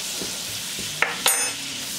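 Flour roasting in a spoonful of melted butter in a heated pan gives a steady soft sizzle, with a couple of sharp spoon scrapes against the pan partway through.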